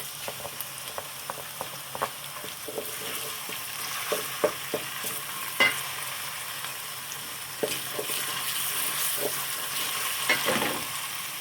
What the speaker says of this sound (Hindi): अब हम इसमें अपने टमाटो पेस्ट डाल रहे हैं